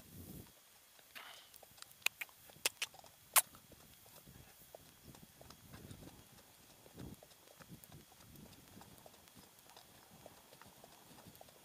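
Hooves of an Icelandic horse ridden in pace gait, clip-clopping steadily and close at hand, with a few sharper knocks near the start and a quieter rhythmic patter after that.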